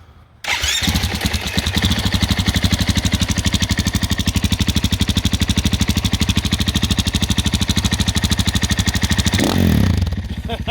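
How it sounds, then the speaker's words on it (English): A dirt bike fitted with a brand new FMF exhaust cranks up and settles into a loud, close, rapidly pulsing idle that holds steady for about nine seconds before dropping off near the end. "he hears the bike crank up"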